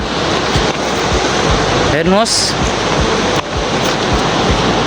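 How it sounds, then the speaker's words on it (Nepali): Rushing water where the Arun and Barun rivers meet, a steady loud roar filling the whole clip, with a brief spoken word and a faint whistle-like sound partway through. "यहाँ अरुण र वरुण नदी दुईवटा नदी मिसिएको छ"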